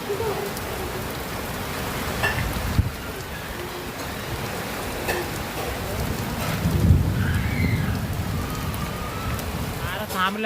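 Heavy rain lashes down with sudden gusting wind on an old sheet-metal roof, a dense steady hiss with scattered louder knocks and rumbles, while people talk faintly underneath.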